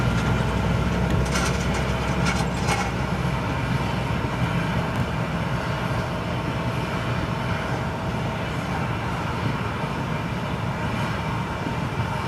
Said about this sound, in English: Such a versatile freighter, this 777, isn't it?